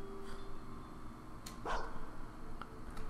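A dog bark plays as an ultimate ability in a video game: a few short, sharp yelping bursts over a quiet, steady game background, with one stronger bark in the middle.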